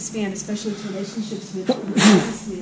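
A single sharp sneeze bursts out near the end of a man's speech at a downtown business association meeting, loud and close, briefly interrupting the talk.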